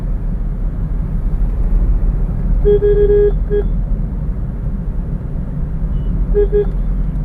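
A 2022 Maruti Suzuki Dzire ZXI CNG car on a test drive gives a steady low rumble of engine and road noise inside the cabin, broken by short tonal horn toots midway and again near the end.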